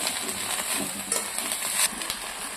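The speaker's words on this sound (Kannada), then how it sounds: "ಕಡ್ಲಿ ಪಲ್ಯ ಹಾಕಿ ಒಂದು ಎರಡು ಮೂರು ನಿಮಿಷ ಹಿಂಗೆ ಫ್ರೈ ಮಾಡ್ಕೊಬೇಕು" Chickpea palya fries in oil in a pan, with soft sizzling and occasional scrapes and clinks of a spoon stirring against the pan, fairly quiet and without speech.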